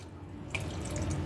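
A small splash of water poured into a pan of milkfish paksiw, Ilokano-style, a brief close trickle and drip that continues softly at low level.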